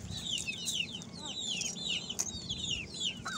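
Desi hens cluck and chatter together nearby, with overlapping short clucks and squawks in a busy, irregular stream over low farmyard background noise.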